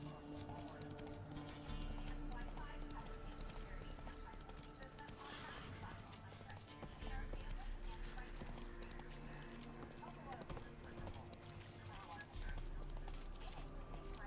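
In The Witcher 3, the horse Roach trots with a steady clip-clop of hooves under a layer of game music and ambience, the hoofbeats fairly soft and continuous.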